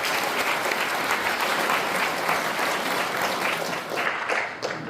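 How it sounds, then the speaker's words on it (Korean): Sustained applause from a ceremony audience welcoming the head of the Gyeonggi branch of the Heritage of Korean Independence at a Provisional Government anniversary event; dense, steady clapping throughout, easing slightly near the end, with no speech. "뜨거운 박수로 환영해 주십시오"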